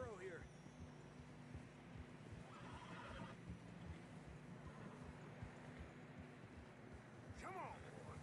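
A horse whinnies and snorts in the snowy mountain terrain of the video game Red Dead Redemption 2, with hooves crunching and trudging steadily underneath and another short neigh near the end.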